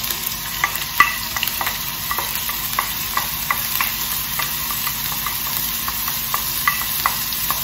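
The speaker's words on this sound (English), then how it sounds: "Okay, so once the oil is hot, add the onion." Onions frying in hot oil in a pan while making pasta pesto, giving a steady close sizzle with scattered crackles and occasional stirring scrapes, with no talking.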